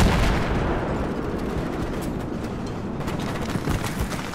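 Gunfire in a Battlefield 3 game ambush rolls on as a dense, continuous barrage of shots and booming blasts, loud and sustained, with no voices.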